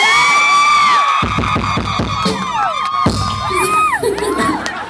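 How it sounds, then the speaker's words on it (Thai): A studio audience cheers and claps loudly for a young woman who works the salt fields, with shrill shouts and whoops riding over a dense wash of applause that carries on for the full few seconds. "ท่านผู้ชมครับขยันให้น้องนุ่นเนี่ยฉันต้องทำขอเสียงปรบมือ"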